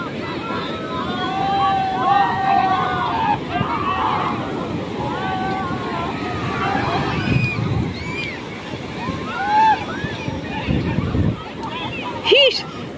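Sea waves washing up the sand on Puri beach in Odisha, a continuous broad wash with wind buffeting the microphone, while someone talks over it and birdlike calls and voices sound in the background.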